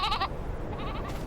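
A lamb bleats in a Farming Simulator 22 sheep pen, one loud wavering bleat near the start followed by fainter bleating calls over steady background ambience.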